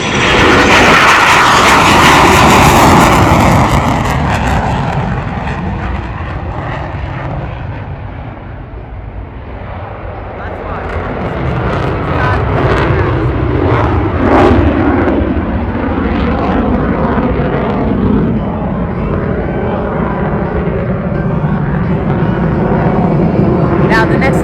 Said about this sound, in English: the next maneuver we'll perform will be the high angle attack capability of the CF-18 Hornet